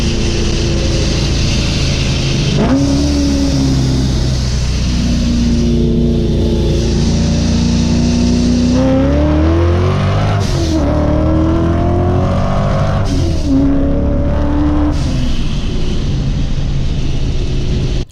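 Ford Mustang street racing an M3 in Mexico, heard as a loud, continuous engine roar with rising and falling pitch through gear changes, plus wind and road rush throughout.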